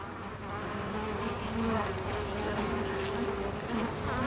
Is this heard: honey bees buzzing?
yes